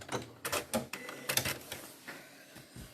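A sewing machine stitching the sleeve of a doll's dress, giving short bursts of rapid mechanical clatter separated by brief pauses, close and moderately quiet.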